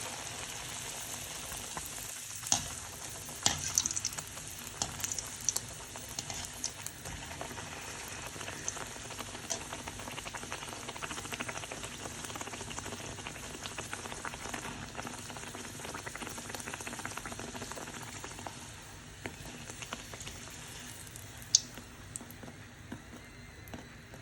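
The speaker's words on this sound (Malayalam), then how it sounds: "എണ്ണ ചൂടായി ഞാൻ ഇതിലേക്ക് ഇട്ട് കൊടുക്കാം" Bhatura dough fries in hot oil, a soft, even bubbling hiss that holds steady at low level throughout, with a few faint clinks and no talk.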